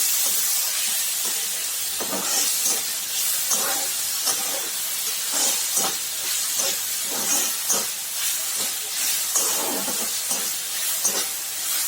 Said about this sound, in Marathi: छान भाजून घ्यायचं आहे आपल्याला हे.